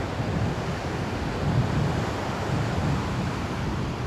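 Waves wash onto a kitesurf beach while wind buffets the microphone, a continuous loud roar of surf and gusts with slight swells in intensity and no voices.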